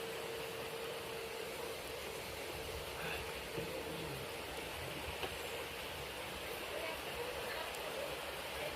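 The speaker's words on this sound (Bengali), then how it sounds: "বলছিলাম না একটা ঝর্ণার আওয়াজ পাচ্ছি" A distant waterfall in the mountains around Muktinath gives a faint, steady rushing hiss that runs unbroken through the whole stretch.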